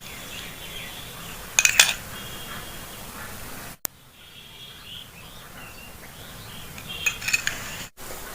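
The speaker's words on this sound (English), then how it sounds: "Mix it well and make it a" A spoon clinks and scrapes in a bowl while a skin-care body paste is mixed, two brief metallic rattling bursts against a steady quiet background hiss.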